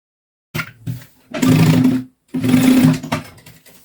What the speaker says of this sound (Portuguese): Agora nós vamos fechar o forro nele, colocar o elástico e passar o vivo.